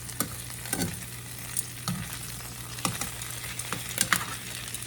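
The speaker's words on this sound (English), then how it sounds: "we're going to just flip these babies over and let them brown on the other side" Pieces of meat for a homemade spaghetti sauce brown in a pan over medium-high heat, giving a soft, steady sizzle broken by several scraping knocks as they are flipped.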